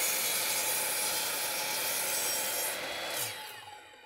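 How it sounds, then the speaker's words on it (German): A hand saw cuts a 45-degree angle into wood, giving a steady, continuous rasping stroke close up that runs for several seconds before easing off near the end, with no talk over it. "Und jetzt wird auf dieser anderen Seite auch ein 45 Grad Sägeschnitt gesetzt"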